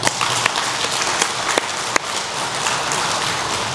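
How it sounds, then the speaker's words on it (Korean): A church congregation claps together in dense, sustained applause for the choir from start to finish, with a few louder individual claps standing out. "우리 찬양대에게 감사의 박수하십시다"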